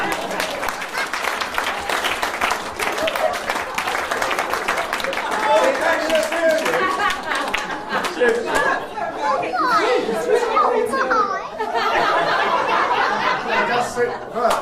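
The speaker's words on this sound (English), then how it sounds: "Round of applause for that, I think." Wedding guests applaud after a speech, a dense, steady round of clapping lasting throughout, mixed with crowd chatter and some laughter.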